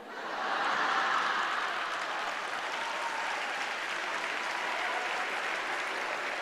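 A church audience applauds at a sermon, a dense, steady wash of clapping that swells in and holds evenly from a moderate distance, with no speech over it.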